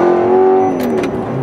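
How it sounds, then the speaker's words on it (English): Straight-piped Audi R8 accelerating away, a loud, brief engine roar with a strong rising tone that drops off after under a second, followed by short bursts of noise. "Straight piped Audi R8."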